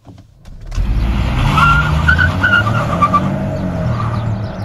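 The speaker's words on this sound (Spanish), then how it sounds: "para hacerlo, pisamos el freno y aceleramos" A Lynk & Co 01 with a 1.5-litre three-cylinder petrol engine launches hard from a standstill, its engine surging up loudly while the wheels spin and the tyres squeal. The sound stays close and steady for several seconds, with no voices.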